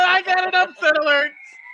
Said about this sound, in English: Sound the sirens.